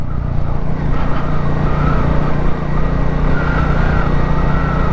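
A Royal Enfield Classic 350 motorcycle engine thrumming steadily while being ridden, a loud continuous drone mixed with road and wind noise.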